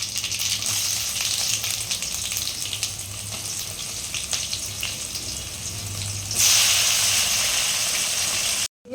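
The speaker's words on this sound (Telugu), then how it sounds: "ఆవాలు, జీలకర్ర చిక్కుపోతున్నాక" Mustard seeds and cumin crackle and pop in hot oil, a dense continuous sizzle that swells louder for the last few seconds before cutting off abruptly.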